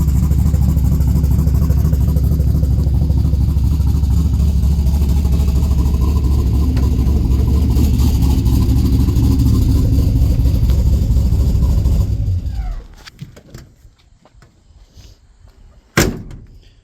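A Buick Skylark engine idles with a loud, steady, deep rumble up close, then shuts off and falls quiet, followed by a single sharp slam.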